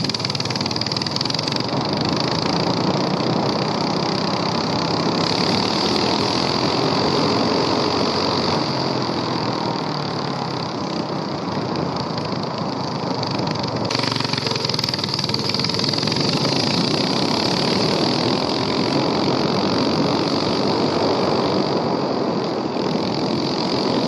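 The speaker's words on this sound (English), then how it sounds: "So before we put the muffler on, we're gonna do a top speed run." A mini bike engine with its governor removed and no muffler runs flat out on a top speed run, a loud, steady, raspy drone that holds for the whole stretch with only slight shifts in pitch and no talking.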